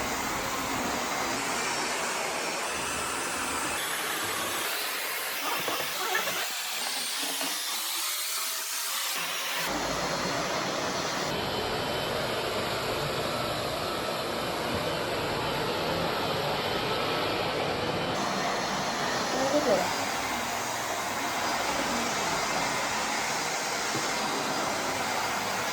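A household vacuum cleaner with blade-like parts switched on and running steadily, a loud continuous broadband whoosh with a dip partway through before it settles into an even hum.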